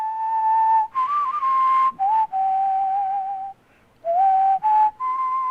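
A person whistles a melody alone, clear sustained tones rising and falling in several phrases separated by brief breaths and one longer pause.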